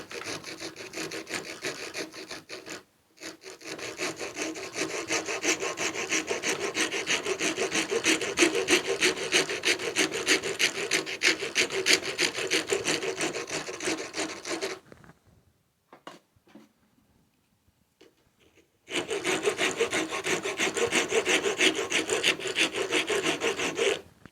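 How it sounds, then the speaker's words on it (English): A coarse rasp files wood in fast, rhythmic, close strokes. The scraping runs loud and steady for about fifteen seconds, stops for a few seconds of quiet with faint handling, then starts again. "the rasp will take off more wood than a file"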